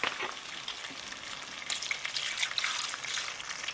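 Coconut milk poured into a simmering chicken curry, a close liquid splash and trickle over an ongoing sizzle and bubbling of the pot, with brief stirring clatter.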